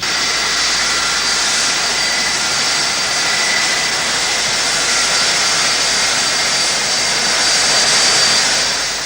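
Aircraft engines at Tullamarine Airport in the 1980s give a loud, steady jet roar with a high whine above it, holding at full strength the whole time with no talk.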